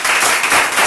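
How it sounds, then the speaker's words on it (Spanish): A church congregation claps loudly and steadily for a short burst, dense and continuous applause filling the room during a Spanish-language worship service. "De otro fuerte aplauso a Jesús."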